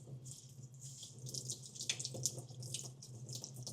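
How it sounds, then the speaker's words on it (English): Steady stream of tap water running into a kitchen sink while lentils are rinsed, a soft continuous splash with a few louder gurgles and drips, quiet and close, with no talking. "You want to make sure you're rinsing your lentils to get rid of any extra starch."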